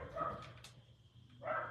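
A few dogs bark and yip in short bursts in a brief, fairly faint moment, sounding a little distant, with no talking over them.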